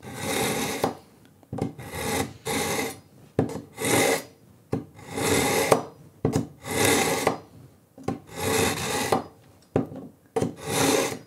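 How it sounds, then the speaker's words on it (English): A dull kitchen knife drawn repeatedly across a sharpening tool, making long raspy scraping strokes in a steady rhythm with short gaps between passes, loud and close. "I'm going to sharpen this dull-as-hell knife"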